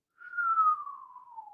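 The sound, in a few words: descending human whistle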